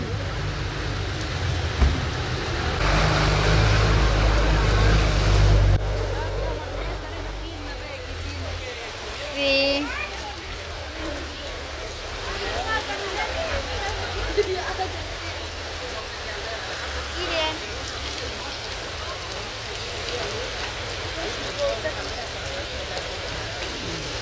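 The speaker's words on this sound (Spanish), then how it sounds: "Empezó a llover nuevamente." Heavy rain pours steadily on an outdoor street in Santa María Joyabaj, Quiché, Guatemala, with a dense hiss throughout. A low rumble in the first few seconds may be thunder, and people talk briefly over the downpour.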